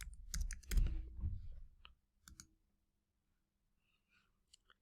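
Keys clack in a quick close burst on a computer keyboard, followed by a couple of isolated taps and then near silence.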